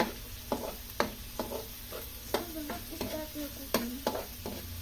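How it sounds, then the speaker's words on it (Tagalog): Garlic and onion sautéing together in a pan for menudo: a soft ongoing sizzle broken by regular spatula taps and scrapes against the pan, close by. "Para po hindi masunog yung bawang, sinabay ko ang sibuyas."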